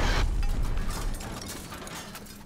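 A half-track in a World War 2 video game is blown up by a Panzerschreck rocket: a loud, close blast at the start followed by a rumbling, crackling decay of debris that fades over a couple of seconds.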